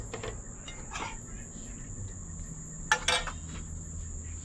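Insects chirping at night in Jamaica, a steady high continuous trill from crickets held throughout, with faint clinks of plates and dishes and a few brief sharper sounds nearby.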